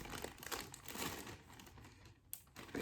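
Crinkling plastic baggie being zipped shut and squeezed to mix a dyed solution, steady close rustling and crumpling with a short sharp zip-like burst near the end, no talking.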